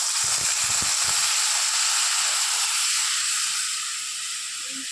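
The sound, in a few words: water poured into frying taro stolons, sizzling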